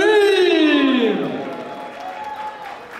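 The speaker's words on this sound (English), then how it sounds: "Everybody, one more round of applause for Shafina Kareem!" Gala-night audience applauding as a long held tone from a voice or instrument slides downward and fades, the clapping continuing as a soft wash of crowd noise underneath.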